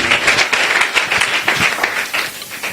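A church congregation claps and applauds in acclaim of the Lord, a dense, loud and continuous burst of many hands clapping together.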